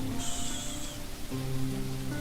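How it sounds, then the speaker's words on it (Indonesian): Steady outdoor rain hisses evenly throughout, with faint tonal hums underneath and no voices. "kita nikmati dengan hujan di sini"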